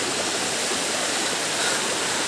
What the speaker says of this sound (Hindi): इतना अच्छा जगह है वाटरफॉल यहां में भी एक और नीचे में भी एक है